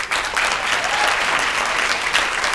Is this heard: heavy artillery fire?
no